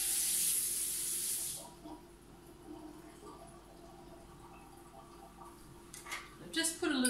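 Cold water poured into dissolved gelatin for a keto no-bake lemon cheesecake gives a bright, hissing splash for the first second and a half, then quiet kitchen sounds follow with a person talking and some light clinks near the end.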